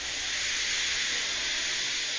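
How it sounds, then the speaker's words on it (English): A steam locomotive lets off steam as a steady, even hiss that runs unbroken and fairly loud throughout, with no other sounds. "He just let off steam feebly."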